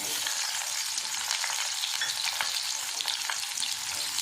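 Onions frying in oil with cloves and fennel seeds for an idli tempering, a steady, fairly loud broadband sizzle crackling evenly throughout with no voices.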